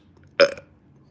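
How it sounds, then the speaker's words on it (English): A single short, close burp bursts out of a quiet room at a home livestream and fades within a fraction of a second. "I just burped"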